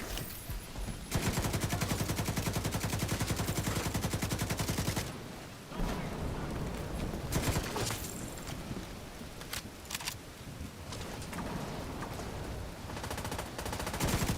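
Video game gunfire in a shooter with AI reinforcements: dense, rapid automatic bursts rattle almost continuously, loud and close, with a brief break before sustained firing resumes alongside scattered single shots.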